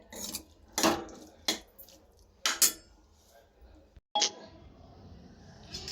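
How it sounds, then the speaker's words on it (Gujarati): A spoon scrapes and clanks in a pan while sabudana khichdi is stirred, giving several sharp, irregular bursts of metal-on-pan scraping close up, with quieter stirring between them and no talk. "3 મિનિટ સુધી કન્ટિન્યુ હલાવવાનું જ છે"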